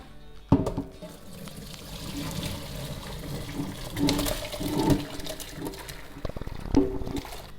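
Cooked spinach is tipped into a colander, with an initial splash and pour followed by uneven trickling and dripping water and a few small clatters, moderately close.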